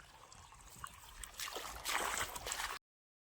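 Water runs and trickles steadily, swelling louder in the second half before cutting off abruptly.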